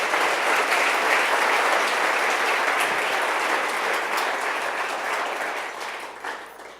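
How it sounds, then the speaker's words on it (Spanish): A church congregation claps together during a sermon, a dense, loud burst of applause that holds steady and then thins out toward the end. "Dele una ofrenda de palmas al Señor"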